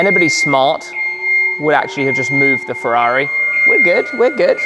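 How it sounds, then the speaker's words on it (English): A steady warning beep runs through as a machine, likely one of the new BendPak lifts, is driven into a garage; a constant tone sits beneath continuous nearby talk. "Sorry for the beeping."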